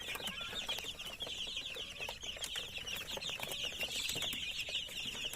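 Healthy young chicks and chickens in a rural coop keep up a busy, overlapping chorus of high peeping and soft clucks, fairly close and continuous, with light scuffling underneath and no talking.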